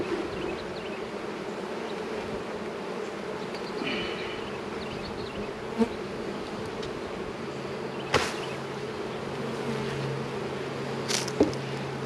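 Honey bees buzz around an open hive during a late March inspection, a dense continuous hum close by with a few faint knocks and clicks over it.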